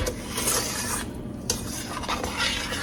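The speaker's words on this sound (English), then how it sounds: "Take and mix that in there good." Sugar being stirred into sweet potato pie filling in a bowl, a steady scraping, rubbing swish with brief pauses, close and alone.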